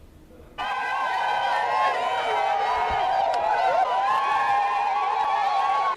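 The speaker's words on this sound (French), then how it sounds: "Cette foule en furie manifeste sa colère et son indignation" An angry crowd protests outside a hospital morgue, a loud, dense mass of raised voices and shouting that starts abruptly and holds steady throughout.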